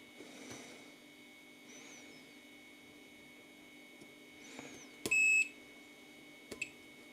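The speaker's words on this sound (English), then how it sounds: "that's just me shorting the meter probes together." Short electronic beeps from a multimeter with shorted probes sound intermittently over a faint steady hum, a couple of brief tones a second or so apart.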